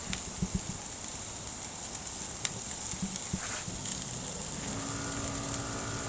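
Hamburger patties searing on an outdoor grill give off a steady, bright sizzling hiss, with faint scattered pops and taps over the continuous frying sound.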